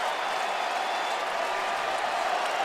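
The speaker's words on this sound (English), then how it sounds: "the cheer is the crowd just saw the final of that FDU upset" Arena crowd at an NCAA men's tournament basketball game, Gonzaga vs. Grand Canyon, a dense wash of cheering and applause that holds steady and loud throughout.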